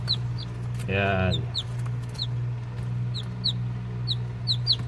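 On a farm, chickens and chicks give repeated high, short peeps scattered throughout, with one louder drawn-out clucking call near the start over a low steady hum; a person briefly speaks once.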